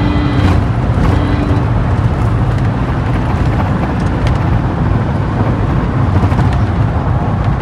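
An old Ford Endeavour and a new Mahindra Thar run side by side in a highway drag race at around 120 km/h, making a loud, steady roar of engine and road noise with no pauses and no voices.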